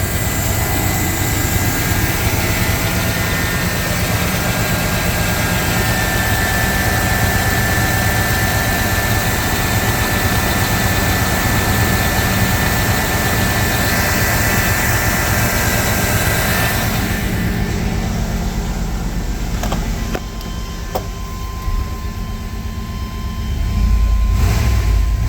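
A GMC Sierra pickup truck idles after a cold start with a loud, steady engine drone that holds for about twenty seconds, then shifts and drops slightly near the end. No one speaks.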